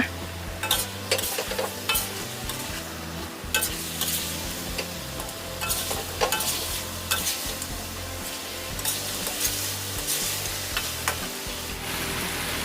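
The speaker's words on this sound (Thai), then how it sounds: "จากนั้นใส่เนื้อปลาผัดให้เข้ากันนะคะ" Pieces of sea bass are stir-fried in a pan with a steady, close sizzle and frequent scraping and stirring strokes, while faint music plays beneath.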